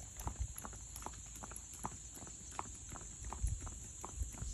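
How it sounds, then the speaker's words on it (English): A 13-year-old saddle horse gelding, about 15.1 hands, walks with steady, fairly close hoof clip-clops at an even rhythm, with no talk over it. "He is a sure enough saddle horse."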